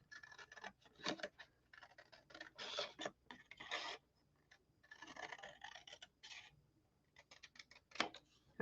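Scissors cut through paper card for a handmade umbrella card, close rasping snips in short uneven runs separated by quiet pauses.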